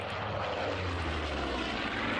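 Propeller aircraft engines drone in the Order of Battle war game, a dense, steady roar with a low throbbing hum that holds at constant loudness throughout, with no voices.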